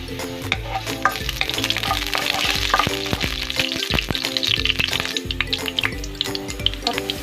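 Garlic stir-frying in a pan, a loud close sizzle with frequent clinks and scrapes of a utensil stirring, continuous throughout with no talk.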